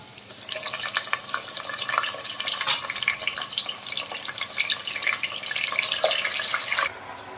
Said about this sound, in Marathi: आता याच्यात आपण हे मटण घालूया शिजण्याकरता।